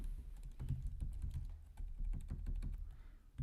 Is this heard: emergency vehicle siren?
no